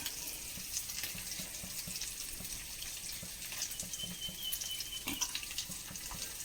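A semiya and milk mixture sweetened with jaggery and flavored with vanilla boils in a pan, giving a steady, close bubbling and sizzling hiss with soft stirring knocks underneath.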